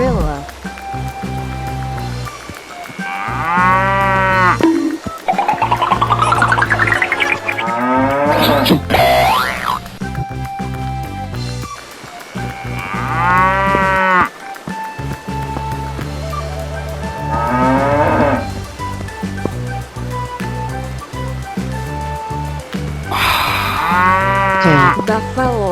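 A cartoon cow moos in a series of drawn-out calls, mixed with bouncy cartoon sound effects and playful music, loud and close throughout.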